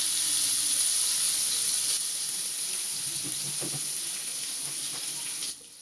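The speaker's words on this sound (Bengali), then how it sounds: "মাছগুলো আজকে আমি পটল আলু দিয়ে রান্না করে নেব, তাই পটল আলুগুলো এখানে একটু ভেজে নিচ্ছি।" Pointed gourd and potatoes frying in a pan with turmeric and salt for fish curry, a steady loud hiss and sizzle throughout that drops off slightly at the very end.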